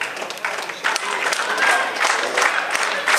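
Wrestling crowd cheering and clapping at a live match, a continuous dense wash of applause and shouting with a voice talking over it.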